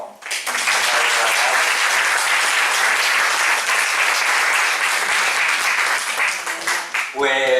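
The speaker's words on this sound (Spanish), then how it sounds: "Le damos un aplauso, ¿no?" An audience at an astrology talk breaks into sustained applause, a dense, even wash of clapping lasting several seconds before quickly fading out.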